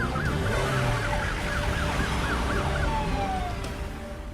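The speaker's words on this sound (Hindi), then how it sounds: "सर की गाड़ी में सायरन लगाया और शक्तिमान की तरह गया है।" A vehicle siren wails with rising and falling tones over steady traffic noise, fairly close and continuous throughout.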